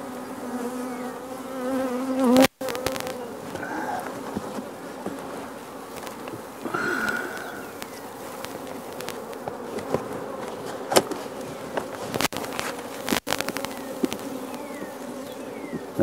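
Honeybees buzz steadily around hive boxes packed with bees in early April, a dense close swarm hum with a few sharper passes of individual bees nearby and no talking.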